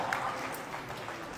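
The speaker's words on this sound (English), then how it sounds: "Okay, give him a clap." A group of kids at a Tibetan talk in Toronto claps in a short, dense burst of applause for a child, with voices mixed into the sound.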